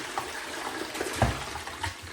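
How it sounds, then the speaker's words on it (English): A toilet with a blue cleaning block flushes, giving a continuous rushing, gurgling wash of water at close range without pause, with no talk. "Flush it."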